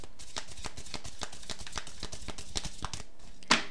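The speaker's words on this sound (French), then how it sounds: "on va prendre deux petites cartes des Médéors et deux petites cartes du luminaire" Oracle cards are shuffled in a continuous rapid riffling patter of papery flicks, close and steady, ending with a brighter snap as a card is drawn.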